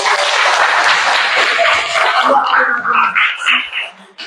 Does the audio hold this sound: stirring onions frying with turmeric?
no